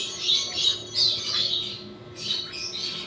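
Hand-fed baby African lovebirds, two to three weeks old and barely feathered, give shrill, raspy begging squawks and chirps in several bursts, close and fairly loud with short pauses.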